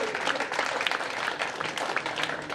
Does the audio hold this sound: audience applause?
yes